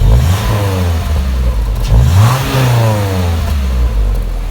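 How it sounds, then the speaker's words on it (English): A car engine revs up and drops back with the exhaust valve closed, a deep muffled roar rising and falling a few times, close and loud. "we've got a closed valve. It's closed there, so we'll give it a rev."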